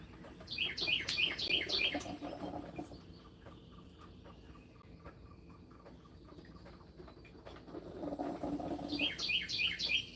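A small bird sings two bright bursts of rapid, high chirps, one at the start and one near the end, with quieter outdoor background between.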